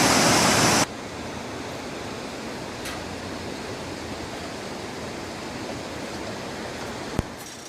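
Rushing river water churns far below a suspension bridge, a steady broadband roar that starts with a louder burst, then holds even and constant, with a faint click near the end and no voices.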